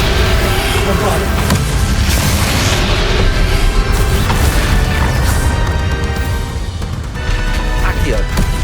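Bombarda spell blast during a Hogwarts Legacy final battle, a dense booming, crashing roar that fills the whole clip amid chaotic combat effects and music, with voices shouting over it.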